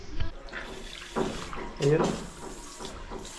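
Water from a tap below rushes on in short bursts, fairly close, with a voice speaking briefly over it.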